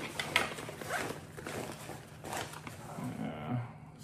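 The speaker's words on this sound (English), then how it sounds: "So we've got a nice little front zipper up here." Front zipper on a Teton Sports 22L hydration backpack being pulled open in a few short rasping strokes, close and fairly quiet.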